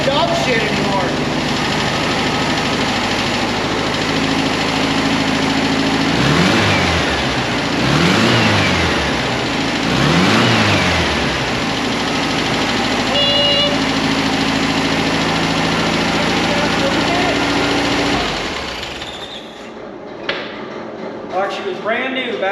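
A 1973 VW Super Beetle's air-cooled engine, back running after 17 years, idles loudly up close and revs in several rising and falling bursts, then cuts out near the end, with people talking over it.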